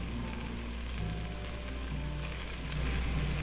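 Seasoning mixture and tomato paste sizzling in a hot pan for Shrimp Creole, a loud, dense continuous fry with a stirring undertone and no voices.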